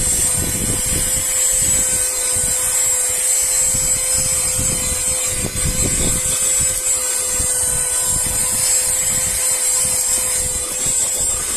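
A small rechargeable car vacuum cleaner runs continuously with a loud, steady high-pitched motor whine and a rough airy rushing. It keeps going without pause except for a brief dip in the middle.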